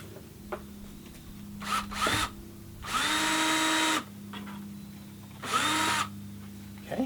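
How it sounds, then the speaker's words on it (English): A power drill drives into a mount for a solar light in several short bursts of high-pitched whirring, with quiet pauses and a low background hum between them. "I'm going to swap my bit back out with the drill bit and get the other side started."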